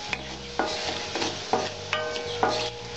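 White cumin seeds crackle and sizzle in hot oil in a wok for a Bengali drumstick flower ghonto, with a steady close hiss broken by regular scraping stirs about every half second.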